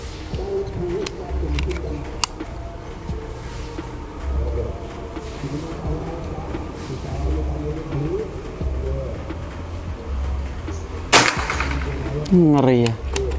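A single sharp crack from a PCP Bocap Predator air rifle with a folding stock cuts through steady outdoor background noise late on, with faint ambient tones around it.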